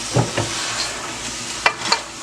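Curry goat is stirred in a pot, with a few scraping spoon strokes against the metal over a soft background sizzle.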